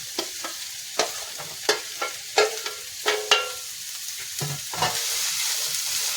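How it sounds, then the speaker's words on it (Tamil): Onion, garlic and green chillies sizzle in hot oil in a pan while a spoon stirs them, making sharp scraping strokes about once a second over a soft, continuous frying hiss. "எண்ணெய் பார்த்திங்கன்னா நல்லா சூடாகிட்டு வெங்காயத்தை போட்டுக்கலாம். பூண்டையும் போட்டுக்கலாம்."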